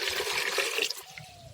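Water pours into strained liquid compost, a short close splashing gush with a bubbling trickle that fades slightly toward the end, with no talk.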